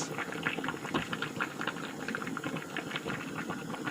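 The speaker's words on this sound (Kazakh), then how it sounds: "Енді осының барлығын 3-4 минуттай қайнатамыз." Lecho with sugar, salt, coriander, black pepper and sunflower oil boils steadily in a pot, a dense, continuous bubbling and popping close by with no talk.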